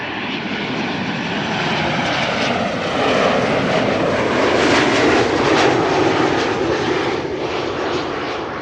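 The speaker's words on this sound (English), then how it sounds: "Another German Airways Embraer." German Airways Embraer airliner on approach at Amsterdam Schiphol, a loud, steady broadband engine roar that swells slightly mid-way as it passes fairly close, with no voices over it.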